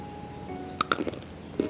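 Crispy glutinous rice flour cookie for Lebaran, made with a single egg, bitten and chewed close up: a few sharp crunches in quick succession, then one more crunch a moment later, with faint background hiss.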